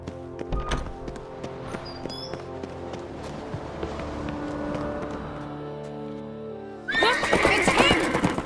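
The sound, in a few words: horse neighing in video game The Witcher 3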